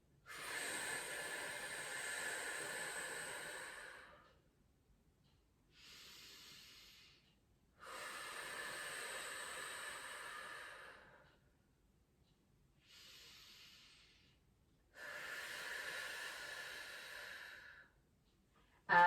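A woman doing a pregnancy workout takes slow, deep breaths close to the microphone, long airy exhales alternating with shorter inhales in a steady rhythm, quiet and unaccompanied.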